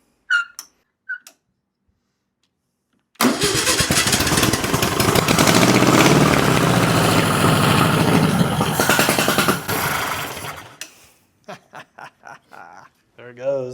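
An old VW Beetle engine starting for the first time in over 20 years, with a carburetor that needs rebuilding: after brief voices it catches and runs loud and rough for about seven seconds, then dies away as people talk.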